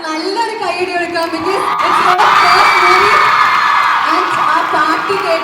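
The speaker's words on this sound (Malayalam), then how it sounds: "നല്ലൊരു കൈയടി കൊടുക്കാം." A large college crowd claps, whoops and yells enthusiastically, a dense continuous roar of cheering that stays loud throughout.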